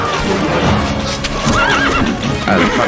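A horse neighs and hooves clatter at a gallop amid a dense, loud Stronghold Crusader game soundscape with faint voices in the mix.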